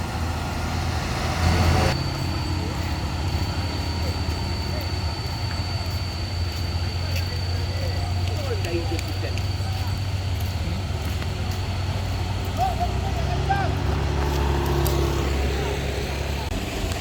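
A truck engine rumbles low and steady as it works to help recover a crude palm oil tanker truck that went into a ravine, with an idling drone running throughout amid outdoor roadway noise.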